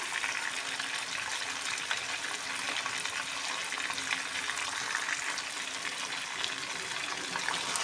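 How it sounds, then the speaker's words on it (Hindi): Steady crackling sizzle of chicken frying in hot oil with garlic and ginger, continuous and moderately loud, with no voices. "लहसुन अदरक के साथ इसको फ्राई करेंगे चिकन को"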